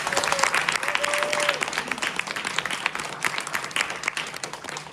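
Audience applause at a leadership event fills the room, dense and sustained for several seconds, with a few cheers and voices mixed in.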